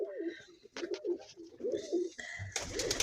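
Pigeons coo in soft, repeated throaty phrases nearby, joined near the end by a burst of rustling or flapping noise.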